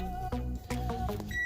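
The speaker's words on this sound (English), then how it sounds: "That's the timer on the oven for the chicken." An oven timer set for baking chicken gives a few short electronic beeps in quick succession, moderately faint with a faint background hum and no one talking.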